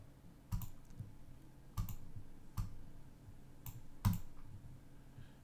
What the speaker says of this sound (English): So I'm going to click in there.